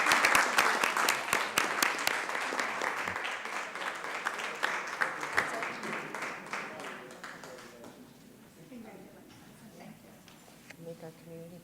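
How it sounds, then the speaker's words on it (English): An audience at a city council meeting breaks into dense applause that fades after several seconds, ending in a few scattered claps over faint room noise. "Let's give him another round of applause"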